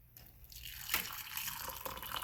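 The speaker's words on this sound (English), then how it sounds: "I need to add my hot water." Hot water poured over ginger and lime slices in a cup, a soft, close trickle that swells into a steady splashing pour over about two seconds.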